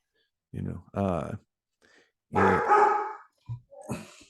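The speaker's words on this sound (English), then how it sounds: "my dogs are going crazy because a dog is walking in front of the yard" Several dogs bark in short bursts at a passer-by dog walking in front of a home yard, close and loud, with a few separate outbursts spread across the moment and no talk over them.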